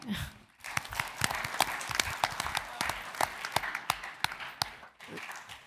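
Audience applause at a school board of education meeting, scattered claps from a seated crowd rising and fading over several seconds, moderately loud with a brief lull before tapering off.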